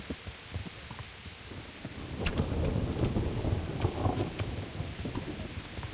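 Thunderstorm in the medieval video game Kingdom Come: Deliverance, with steady rain and rumbling thunder that swells around the middle and keeps rolling, with sharp crackling bursts, and no voices over it.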